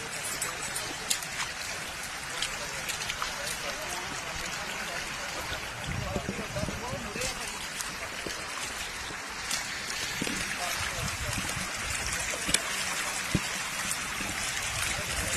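Water flows steadily through the Chitti Bein rivulet in Punjab, a continuous nearby rushing and trickling wash that fills the whole stretch, with faint outdoor background noise.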